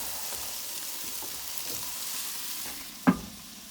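A couple of steaks sizzle steadily in a pan while cooking, a continuous bright hiss with a single sharp crackle or clink near the end, no talking.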